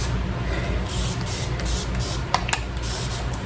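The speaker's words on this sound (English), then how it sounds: "I'm going to spray it with water" Several short hissing spritzes from a spray bottle spraying water on curly hair, quick bursts spaced irregularly, close by and fairly soft over background noise.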